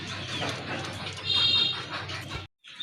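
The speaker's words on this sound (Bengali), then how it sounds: "আরেক জোড়া কবুতর, এটাও কিন্তু দেশি কবুতর" A pair of native pigeons coos at close range, soft repeated murmurs layered over light background noise for a couple of seconds before a short break in sound.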